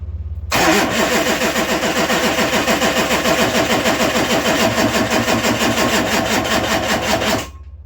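A Chevy LB7 diesel engine cranks on its starter without firing. The loud, rhythmic churning chug starts abruptly and continues steadily for about seven seconds before stopping.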